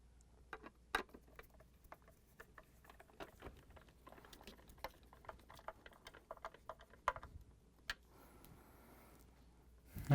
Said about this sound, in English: we're going to use this 3 1/4-inch screws and a nut driver to mount that thing to secure it